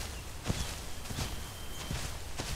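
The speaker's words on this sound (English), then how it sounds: "If something's near, you should calm your f***ing footsteps. It sounds like you're in goddamn high heels." Heavy dinosaur footsteps in the survival game The Isle thud in a slow, regular rhythm, about five distinct impacts over a faint wash of background noise.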